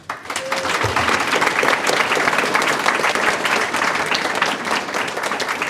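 Attendees at a school board meeting applaud an art teacher being recognized, a sustained, even wash of clapping from a modest room that starts abruptly and carries on without pause.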